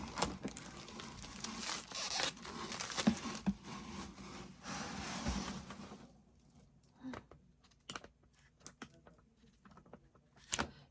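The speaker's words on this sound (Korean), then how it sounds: "이거 한번 먼저 뜯어볼게요." Product packaging for a 2023 calendar of world literature quotes is torn open, with rough ripping and crinkling for several seconds, then scattered separate rustles and taps in a quieter stretch.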